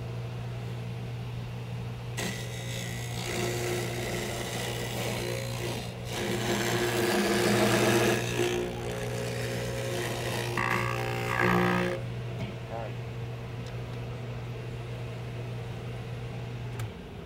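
A Laguna mortising machine runs with a steady low motor hum, while louder bursts of cutting and grinding noise come and go over several seconds as it works into wood.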